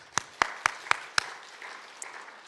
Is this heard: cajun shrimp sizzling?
no